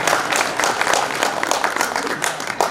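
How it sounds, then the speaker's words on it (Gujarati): Audience at a bhajan satsang applauding steadily, a dense, continuous clapping from many hands that stays loud and even throughout. "તાળીઓ પાડવામાં 2 લાભ છે."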